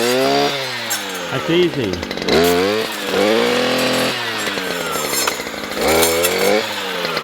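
A power saw bites slowly into wood on a homestead build, its rough buzzing whine rising and falling in long strained passes, loud and close, while people talk over it.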